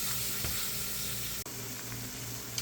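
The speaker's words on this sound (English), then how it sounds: "we're just letting the garlic simmer in there for a minute" Garlic simmering in oil in a very hot pan, a loud dense continuous sizzle with one brief dropout, heard alone without voices.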